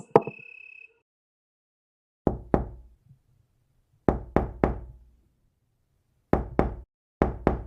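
Knocks land on a wooden cottage door in a fairy-tale setting, coming in quick pairs and triplets with pauses between, crisp, close and fairly soft, with no voices.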